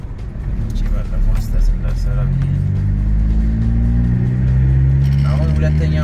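A car passes a highway checkpoint, its engine rumbling low and steady and building a little as it pulls away, with someone talking over the drive throughout.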